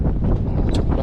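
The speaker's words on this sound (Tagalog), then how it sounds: "lakas ng hangin" Strong wind buffets the microphone in a steady, loud, low rumble with gusty fluctuations, heard outdoors near a car in Canada, with no talking.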